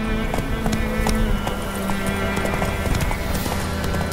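A horse gallops in The Witcher 3 video game, with rapid rhythmic hoofbeats and clip-clop close by, steady and moderately loud, with faint background sound and no clear talk.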